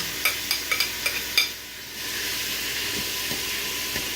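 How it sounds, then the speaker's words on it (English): Vegetables searing in a pan for jambalaya, heard as a steady close sizzle and hiss with a few short clatters of stirring near the start. "I'm going to take those vegetables and I'm going to sear them in here for a few minutes"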